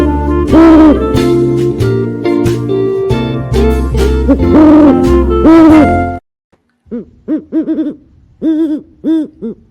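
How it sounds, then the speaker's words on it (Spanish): Once loud music cuts out, an owl gives a run of rounded, close, resonant hoots in short separate bursts. "Y estoy aquí con nuestro querido búho sabio,"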